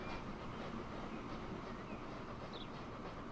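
Trains in the game Transport Fever 2 roll along a mountainside line, a steady low rumble of rail traffic that holds constant throughout at a moderate, distant level.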